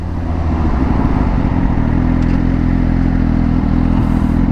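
Loud, close engine drone from a Suzuki Gixxer 1000 motorcycle downshifting with a quick shifter, a steady low rumble with a brief rise in pitch partway through, sustained for the whole stretch.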